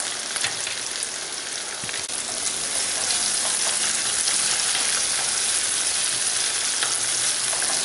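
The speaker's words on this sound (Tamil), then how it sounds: "இப்போ தக்காளியை சேர்த்துடலாம். தக்காளி 2 நிமிஷம் வதங்கட்டும்." Tomatoes sautéing with onions in a hot pan for a crab tamarind curry give off a steady, dense, close sizzle with a few light stirring scrapes, and no one speaks.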